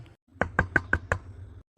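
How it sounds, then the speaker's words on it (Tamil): Four sharp knocks on a door come in quick, even succession, close and distinct against a quiet room. "யாரா அது கதவை தட்டுறது?"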